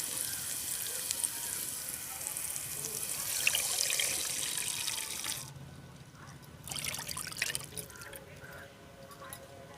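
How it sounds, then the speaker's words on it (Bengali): Two bowls of water splash and trickle into a kadai for several seconds, then quiet, with faint background noise and some low voices. "এবার এই কড়াইয়ের মধ্যে দিয়ে দেবো একটা বাটি মেপে 2 বাটি জল।"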